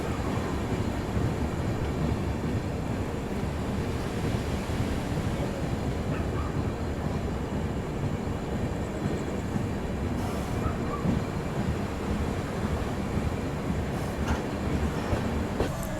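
A Duronto Express train slowing to a stop, heard from inside as a steady, even low rumble and rolling hiss that carries on without pause.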